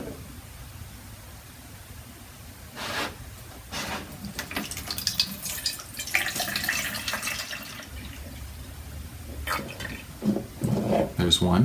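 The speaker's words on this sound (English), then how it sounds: "how many pyramidfuls of water would it take to fill up that prism?" Water is poured to fill a prism, splashing and gurgling in bursts close by, with a person talking over the pouring.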